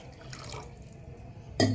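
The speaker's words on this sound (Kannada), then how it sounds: "ಇನ್ನೊಂದು ಸ್ವಲ್ಪ ನೀರು ಹಾಕ್ತೀನಿ" Water poured into a simmering pot of tomato saaru during home cooking: soft drips and trickling at first, then a brief, louder splash near the end.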